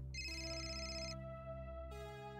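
A mobile phone ringtone plays a sustained electronic melody, fairly quiet, with no voices.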